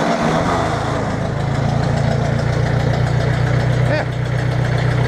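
A 1960 Ford 641 Workmaster tractor with a missing choke knob cold-starts and settles into a loud, steady, rumbling idle, with a faint voice nearby.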